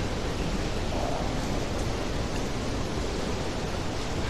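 A waterfall in the Call of Cthulhu video game pours as a steady, loud broadband rush of water with no breaks.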